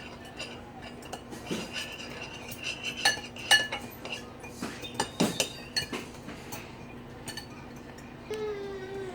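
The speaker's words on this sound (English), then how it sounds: "we're going to mix up the eggs a little bit" A fork whisks eggs in a bowl for chicken parmesan, tapping and clinking against the sides in a quick, uneven rhythm. The sound is close but fairly quiet, with faint kitchen background.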